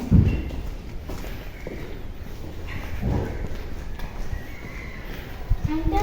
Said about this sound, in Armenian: Սա ձիերն են։